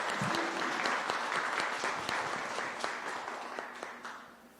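Moderate applause rises from an audience at a magazine presentation event as a panelist is introduced. The clapping starts dense, then thins toward the end and fades out.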